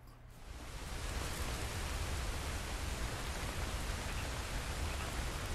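Steady, dense rainfall in the open-world western game Red Dead Redemption 2, a constant even hiss of rain on the ground that fades in over the first second and then holds at a uniform level with no voices.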